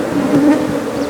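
Honey bees buzz close up at a hive frame holding unsealed comb, a dense steady drone with a slight swell in the middle.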